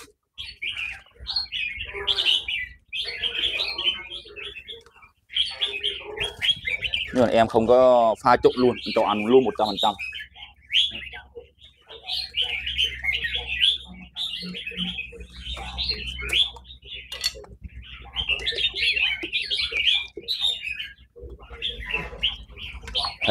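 Several caged red-whiskered bulbuls chirp and trill almost without pause, bright and close, while someone talks in Vietnamese over them for most of the stretch.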